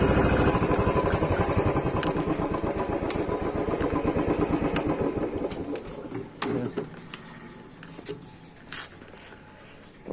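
A motorcycle engine runs loud and close, a steady rumbling idle that thins out into irregular clattering and a few sharp knocks near the end, with no one speaking.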